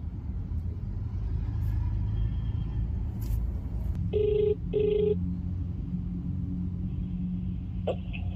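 A phone ringback tone sounds inside a Rapido cab in Hyderabad as a call is placed. Two short electronic ring bursts come close together, carried over a steady low rumble from the car.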